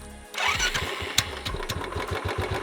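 A motorcycle engine catches and then runs at a steady idle with its fuel pipe removed, burning off the petrol left in the carburetor. Its rapid, even exhaust pulses are loud and close, and no one talks.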